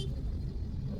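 Low, steady rumble of heavy traffic jammed on a road in Coimbatore, constant vehicle engine drone with no distinct horns or voices, brief and continuous.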